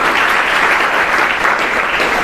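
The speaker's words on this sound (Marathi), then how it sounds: "मी महाविद्यालयाच्या वतीने सर्वप्रथम त्याचं टाळ्या वाजवून स्वागत करू इच्छितो." College audience applauding to welcome a student at a felicitation event, dense continuous clapping from a crowd, loud and steady throughout with no speech.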